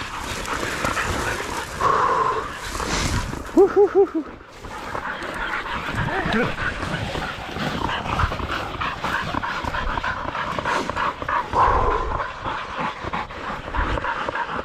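Pig hunting dogs in rough blackberry scrub during a pig hunting competition in Mangakino, yapping and whimpering with panting throughout, close and fairly loud, with a voice briefly heard between the dog sounds.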